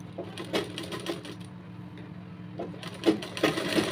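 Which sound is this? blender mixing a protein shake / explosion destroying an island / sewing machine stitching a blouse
sewing machine stitching a blouse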